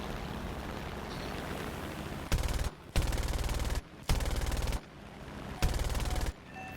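Aircraft guns in War Thunder firing in four loud sustained bursts, each about a second long with brief pauses between, rapid and dense against steady engine drone.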